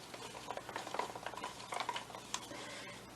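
Acrylic paint is stirred in a cup for a pour, giving a quick run of soft scraping, tapping stick-on-cup strokes, close but faint.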